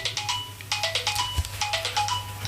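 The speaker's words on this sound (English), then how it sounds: "these damn phones, Bruce," A phone ringtone plays a bright, chirpy melodic pattern that repeats steadily throughout, fairly loud, over a constant low hum with no talking.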